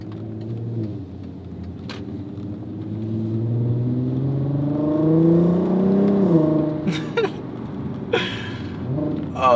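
A VW Golf MK5 R32 engine drones steadily from inside the car while driving, its pitch climbing as it pulls through a gear, then dropping with a shift, with a few short clicks and knocks near the end.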